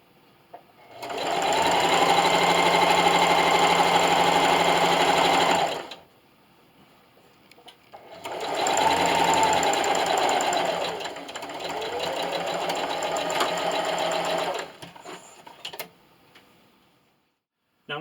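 Sewing machine running a straight stitch with back stitching, two long runs of fast rhythmic ticking whir separated by a brief pause, close and clear.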